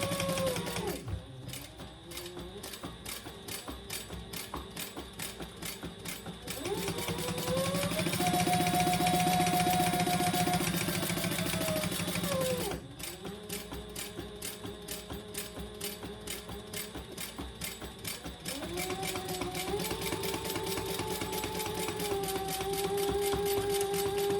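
Sewing machine basting fabric for a waist pack, a close rapid mechanical stitching rhythm running in long bursts with brief pauses and changes in speed and motor pitch.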